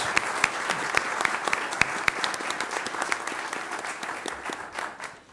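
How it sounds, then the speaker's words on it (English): Steady applause from a modest crowd, dense clapping at an even level that tapers off slightly toward the end. "give a big round of applause for our students doing great things"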